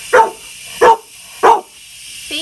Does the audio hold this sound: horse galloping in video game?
no